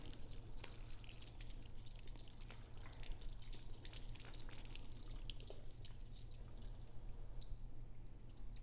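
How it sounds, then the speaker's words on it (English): Water drips steadily from the test port of a backflow preventer as it is tested with a hose and differential gauge, giving a continuous patter of small drops over a low hum. Nobody speaks. "when water stops dripping out of test port number three"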